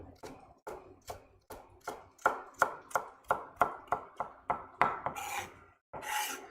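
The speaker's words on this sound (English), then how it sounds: "cut these into nice little diced." A knife dicing carrot strips on a cutting board, with a quick, steady run of crisp chops close up that grows louder and then ends in a few scraping sweeps across the board.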